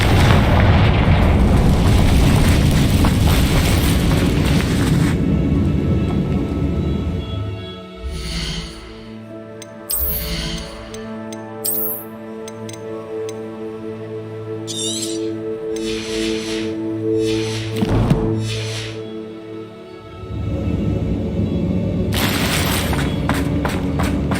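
Confringo blasting-spell explosions in Hogwarts Legacy, loud booming blasts with crackling debris, a dense burst of detonations at the start and end with scattered sharper bangs and whooshes in between, over a quieter game soundscape.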